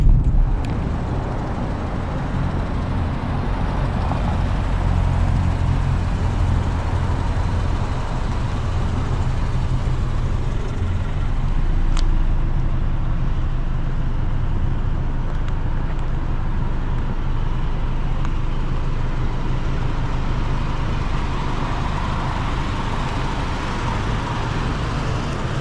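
A naturally aspirated car engine drives at a steady, loud pace, holding a continuous broadband drone of engine and road noise throughout with no speech.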